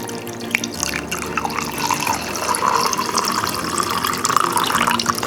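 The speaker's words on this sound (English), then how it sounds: "some very hot water coming out of the tap" Very hot water runs steadily from a kitchen tap, a continuous close splashing hiss that slowly rises in pitch as the vessel fills, with no voices.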